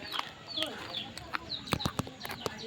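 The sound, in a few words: hen clucking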